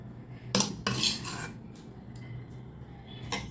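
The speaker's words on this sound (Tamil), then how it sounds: "நல்லா கலக்கி விட்டுருங்க" Wheat dosa batter being stirred with sautéed onions tipped in, a metal spoon scraping and clinking against the bowl in a few bursts, close and fairly quiet with soft scraping between.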